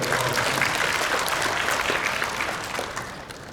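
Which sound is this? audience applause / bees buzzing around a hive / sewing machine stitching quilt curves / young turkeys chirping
audience applause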